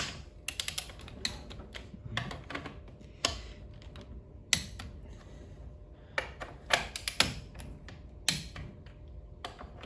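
Click-type torque wrench tightening bolts on a Briggs & Stratton engine crankcase during a rebuild, giving sharp, close mechanical clicks in irregular clusters between ratcheting sounds.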